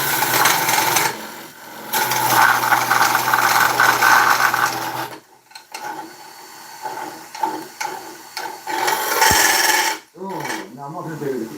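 Wood lathe turning a tenon on an ash fruit bowl, with tool scraping and rasping in bursts, pauses between passes and scattered knocks toward the end.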